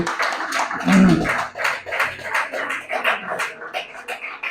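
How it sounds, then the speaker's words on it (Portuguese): Scattered audience clapping at a Divine Principle workshop, a loose run of separate claps at moderate volume rather than a dense ovation, with no speech over it. "Não merece um aplauso."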